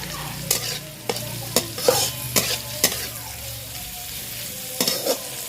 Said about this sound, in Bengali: কপিটা একটু ভালো করে ভেজে নেবো